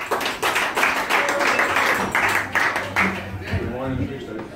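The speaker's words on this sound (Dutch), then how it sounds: "applaus voor Robin Albers" Audience applause for Robin Alberts at an audition for the Koos Alberts Awards, a run of uneven claps and taps over several seconds that fades as a voice comes in near the end.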